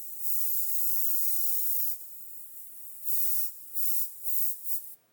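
Air hisses steadily from a Gaahleri Mobius 0.2 premium airbrush, then breaks into several short bursts as the pressure is wound up and down, close and fairly quiet.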